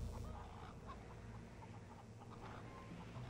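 A rooster clucks at a ranch in the video game Red Dead Redemption 2, soft intermittent clucks heard faintly against a steady ambient farm background, with no talking.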